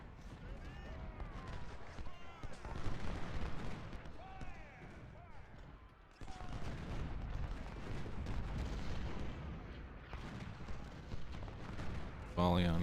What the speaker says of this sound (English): Volley on Coles' cavalry.